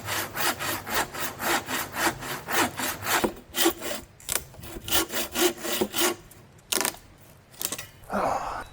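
A sharp-edged trowel saws through wood outdoors in back-and-forth rasping strokes, steady and close at first, then slower and more broken, with a short rustle at the end.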